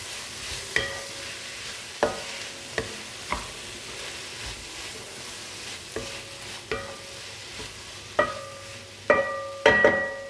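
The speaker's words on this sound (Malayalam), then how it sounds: "ഇതെല്ലാം കൂടി നന്നായിട്ട് വഴറ്റിയെടുക്കാം." Beef and tomatoes sautéed in a pan for a Kerala-style beef roast, with a quiet sizzle under repeated scrapes and knocks of a spoon stirring, some clustered toward the end, and no talk.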